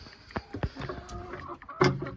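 Turkeys cluck and gobble in short bursts nearby, with scattered poultry calls over a busy yard background.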